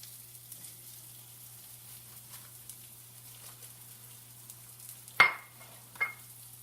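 Red onions and mushrooms sizzle quietly in a pan, a faint soft crackle throughout, broken near the end by a sharp clink of a utensil against the pan and a second lighter knock.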